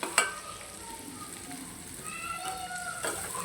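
Spiced masala sizzles and fries in a pan while being stirred, a steady close hiss with occasional scraping strokes.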